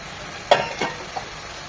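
Chicken, carrot and cabbage frying in a pan, with a low steady sizzle and a couple of sharp stirring scrapes near the start, then one softer clink.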